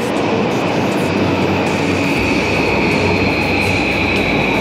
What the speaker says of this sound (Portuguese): Eu preciso pegar esse verdinho aqui que tá chegando agora.